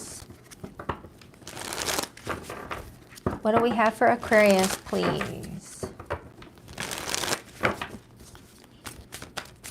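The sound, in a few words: shuffling tarot cards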